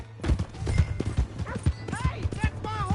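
Horse hooves clip-clopping in the video game Red Dead Redemption 2, a brisk, close run of hoofbeats mixed with voices talking and shouting over them.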